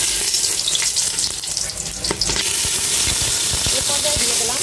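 Cloves, cinnamon pieces, cardamom and bay leaves sizzle in hot oil in a pot for biryani, a continuous crackling hiss with bursts of spattering, close and fairly loud.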